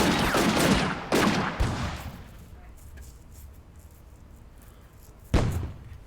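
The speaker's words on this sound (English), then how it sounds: "So they're definitely trying to take out this position with artillery fire. And we're still firing away with the mortar." A few sharp mortar and artillery blasts from a desert battle in Combat Mission: Afrika Korps, three close together at the start and another after a quiet stretch, each one a loud boom fading into faint rumble.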